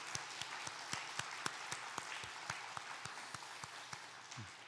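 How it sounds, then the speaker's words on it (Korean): A congregation applauds during a Korean Sunday worship service, a soft, steady wash of clapping in a large room with a few distinct claps standing out, fairly distant and quiet. "박수 올려줍시다"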